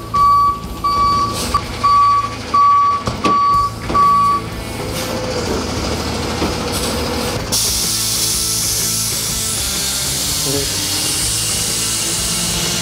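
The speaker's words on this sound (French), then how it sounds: "C'est un camion lowrider" Lowrider truck reversing with a series of evenly spaced loud electronic beeps over a rumbling engine, followed by a long hissing, rushing noise, with no clear talk.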